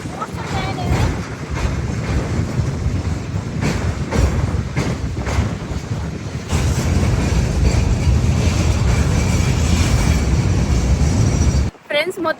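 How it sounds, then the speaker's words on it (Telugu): A train rumbles past up close near a bridge at the Uzbekistan–Afghanistan border, loud and steady for about twelve seconds with heavy wind buffeting the microphone, then cuts off abruptly. "ఇగో ట్రైన్ వచ్చేస్తుంది. ట్రైన్ వచ్చి కూడా వెళ్తుంది."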